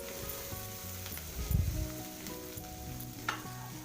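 A vegetable chop filling of grated mango, beet and carrot fries in a pan with a steady low sizzle and a thud of stirring midway, accompanied by faint tonal background sounds.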